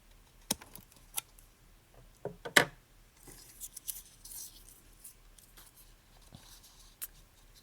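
Small scissors snipping out a paper pumpkin card, with several crisp, close, isolated cuts spaced irregularly in a quiet room.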